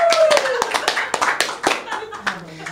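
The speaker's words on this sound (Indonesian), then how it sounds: "Tepuk tangan semuanya." Audience clapping in a group setting, a burst of sharp, uneven claps for about three seconds, with voices and a child's speech mixed in over the top.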